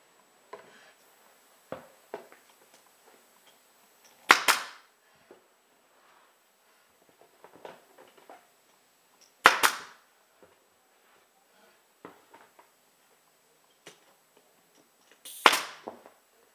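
A pneumatic staple gun drives 5/8 inch, 22-gauge narrow crown staples while upholstering the back of a padded dining room chair: three sharp, loud snaps spaced several seconds apart, with quieter handling clicks and taps in between.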